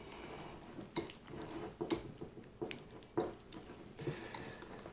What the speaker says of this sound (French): On mélange tout.